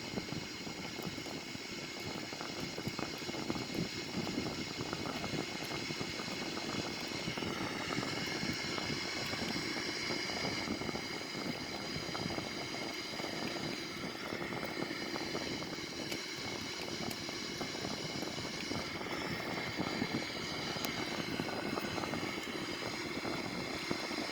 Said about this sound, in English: So this is after takeoff from the runway 14 at Zurich.